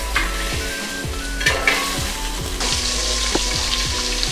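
Butter sizzling as it melts in a cooking pan while a linguine with béchamel is started, a steady close frying hiss with repeated stirring scrapes and a few soft utensil taps, no talking.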